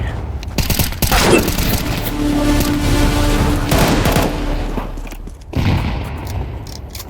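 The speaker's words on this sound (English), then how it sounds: "Throwing a grenade." Counter-Strike 2 combat: a dense, loud burst of rapid gunfire and booming blasts rolling on for several seconds, then trailing off before more shots near the end.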